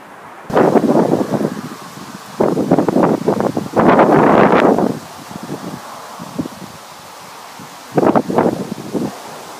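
Wind gusts blowing past a homemade two-bladed vertical axis wind turbine, heard as loud, choppy rushing bursts that surge and fade in uneven waves, close to the microphone, with no voices.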